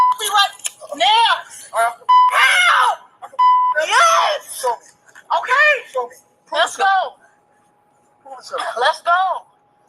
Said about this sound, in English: This thing starts off with her screaming